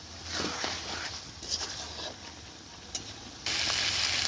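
Chicken being sautéed in a red spice paste, heard as a steady, fairly faint hiss of frying with a few soft stirring scrapes and a louder, brighter sizzle near the end, with no talking.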